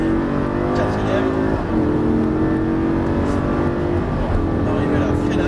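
A Lamborghini Gallardo pulls hard in fourth gear on a race track, its engine note loud, close and unbroken, holding a steady, rising roar for the whole stretch.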